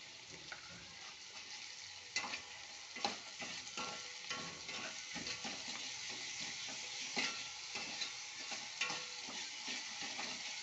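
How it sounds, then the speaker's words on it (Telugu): Onions fry with salt in a pan for curd rasam, giving a quiet, steady sizzle with scattered spoon clicks and scrapes as they are stirred. "ఈ ఉల్లిపాయ ఉడికిద్దని, ఎర్రగా ఉడకాలి."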